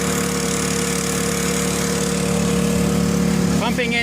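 An engine-driven pump works on a mobile slurry tank, giving a steady, loud droning hum with an even mechanical buzz that holds throughout. Brief speech comes in at the very end.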